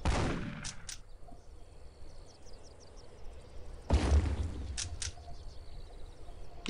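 A pump-action shotgun fires in Postal 2, two sharp booming blasts several seconds apart, each followed by fainter mechanical clicks and a short decaying tail.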